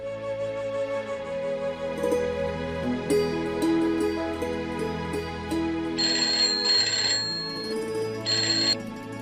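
A telephone rings with a repeating electronic tone, steady and moderately loud indoors, with brighter bursts of chiming toward the end and no one speaking.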